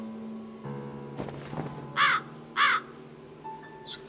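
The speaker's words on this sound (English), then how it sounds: "It's a crow." A crow in the hidden-object game Midnight Mysteries: The Edgar Allan Poe Conspiracy gives two loud, harsh caws about half a second apart over soft game background tones, followed by a fainter chirp.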